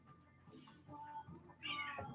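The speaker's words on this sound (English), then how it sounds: "It's like this cat at my ankles is just like constantly back and forth." A house cat meows softly a few times while weaving around someone's ankles indoors, the calls quiet and close with a brighter, louder meow near the end.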